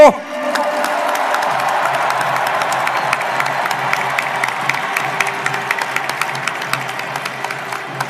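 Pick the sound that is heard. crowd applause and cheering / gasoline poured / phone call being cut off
crowd applause and cheering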